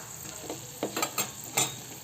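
Cumin, mustard seeds, urad dal, peanuts and dried red chillies fry in oil as a tempering for tamarind pulihora, making a soft, low sizzle broken by a few short stirring knocks.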